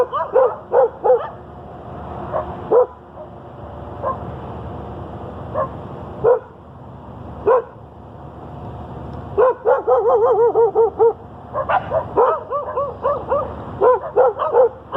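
Several dogs bark in short, sharp bursts and yips, some in rapid clusters, fairly close and loud, with someone talking in between.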